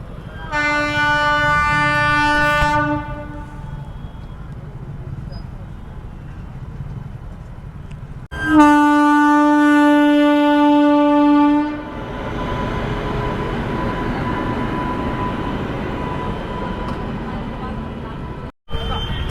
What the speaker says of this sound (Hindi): ये रही तीसरी ट्रेन आई गई